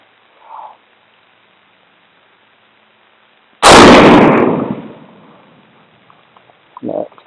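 A single loud 6.5 Creedmoor rifle shot fired outdoors at a target, a sharp blast at mid-clip with a long decaying roar, preceded by a faint brief sound and followed by small clatters.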